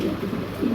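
A pigeon offered for sale gives a short, low, throaty coo, close and fairly clear, rising slightly at the end.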